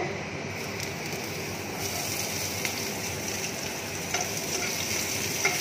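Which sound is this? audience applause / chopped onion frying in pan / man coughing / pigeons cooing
chopped onion frying in pan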